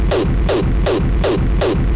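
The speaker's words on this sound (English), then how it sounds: "you should end up with a kick that sounds like this." Gated kick drum synthesized in Serum with soft clipping, five punchy, distorted hits in a steady even rhythm, each with a short pitched sweep and abrupt cutoff, loud and alone.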